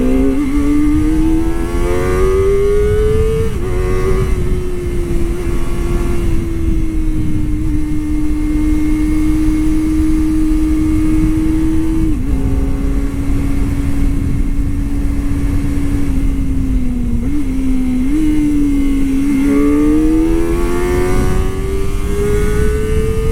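Kawasaki ZX-25R, Indonesian-spec, cruising on an expressway at about 80 km/h: a loud, continuous high-pitched engine whine holds steady, dipping and rising briefly with throttle changes, over heavy wind rush.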